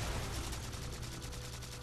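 Gunfire in the video game Halo 4, a faint, rapid burst of shots rattling under a dense wash of game noise for a couple of seconds.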